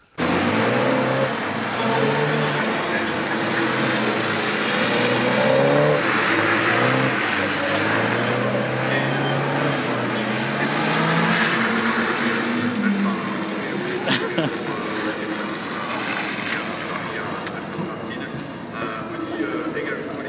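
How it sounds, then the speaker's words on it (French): Rear-wheel-drive race car at the 2023 Le Mans circuit, accelerating with its rear wheels burning: loud engine revs rise in repeated stepped sweeps through the gears, then hold a strained roar, with people talking over it. "Les roues carrément ils brûlent net."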